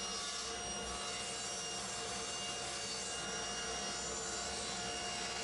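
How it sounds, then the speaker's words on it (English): A saw cutting planed wooden boards into strips for a picture-frame-style puppy gate, giving a steady, continuous rasping whir that runs through the whole stretch with no talk. "I cut the strips to a final dimension."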